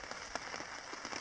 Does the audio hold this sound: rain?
yes